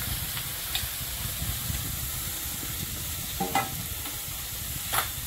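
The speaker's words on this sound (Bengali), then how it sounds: "চিংড়িটা ভাজা হয়ে গেছে, এর মধ্যে উচ্ছে আর আলুটা দিয়ে দেবো।" Steady oil sizzle from bitter gourd and potato frying with prawns in a pan, with a few soft stirring clinks and scrapes over the constant crackle.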